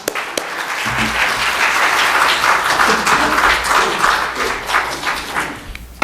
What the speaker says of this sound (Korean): 우리 목사님 나오실 때 할렐루야 박수로 환영하겠습니다